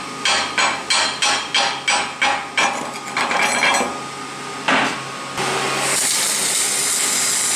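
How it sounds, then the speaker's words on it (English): Hammer chipping slag off a fresh weld on a scratch-built steel towing bumper for a 7.3 OBS Ford F-350: about eight sharp rhythmic metallic strikes close up, then scraping and a steady hiss. "Now chip the slag, see if you did any good."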